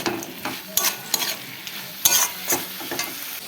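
Pond snail curry being sautéed in a pan, with a series of close, irregular scraping and stirring strokes over a quiet sizzle, no voices.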